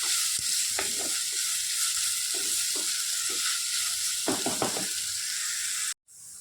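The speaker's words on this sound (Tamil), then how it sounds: "நல்லா வதக்குங்க. வெங்காயம் நல்லா புரிஞ்சுருவா வதங்கட்டும்." Chopped onions sizzle steadily in a hot pan for goat liver thokku, with a constant bright hiss and occasional scrapes and stirs of a spoon, close and continuous until it cuts off abruptly near the end.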